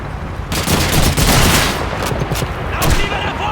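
Turret gunfire in a video game: a loud, sustained burst of rapid automatic shots that rattles on steadily for several seconds, close and dense, with a voice briefly audible beneath it.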